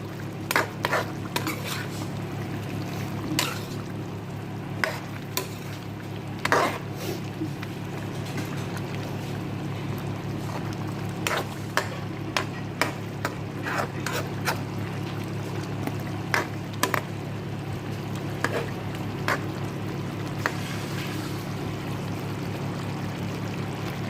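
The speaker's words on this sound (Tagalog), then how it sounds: "Hayaan lang natin kumulo." A low steady rumble of chicken with green bell pepper simmering in a covered pot, with scattered small pops and clicks from bubbling under the lid.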